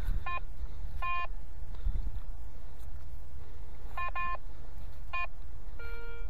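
A metal detector in a field full of buried iron gives a series of short electronic tone bursts in irregular pairs and clusters over low background rumble.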